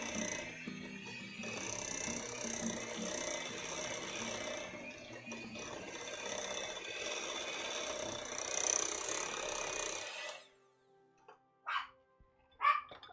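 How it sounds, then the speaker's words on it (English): A dog barks in a few short, sharp bursts near the end, following a long stretch of steady broadband background noise; the barks sound moderately close, with no talking. "It's time for barks."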